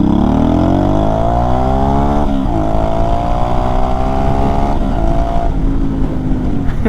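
A Honda Shadow 500 motorcycle engine revving hard and close, its pitch climbing through several rising sweeps with brief dips between, loud and continuous with no voices.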